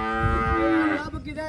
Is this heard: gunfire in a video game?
no